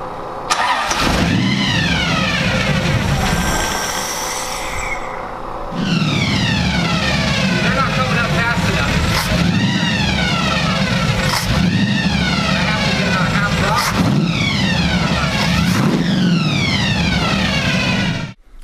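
A supercharged, carbureted engine in a custom car cranks and fires, then settles into a loud, steady idle, cuts out briefly and restarts, running again close and unbroken to the end.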